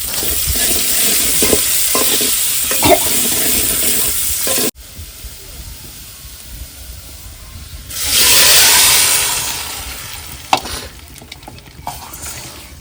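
Food fries in oil in a pan over a wood fire in a forest, cooked for a cattle herders' feast. A steady sizzle comes with stirring scrapes, then a louder hiss surges for a couple of seconds before dropping back.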